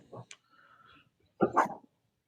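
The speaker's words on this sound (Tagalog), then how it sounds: "Galit tuloy yung aso ko." A dog gives two short, sharp barks close by, with a quiet gap between them, in an indoor setting.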